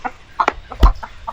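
Native chickens on a small farm cluck in short, close bursts, several birds calling over one another with a brief louder squawk midway.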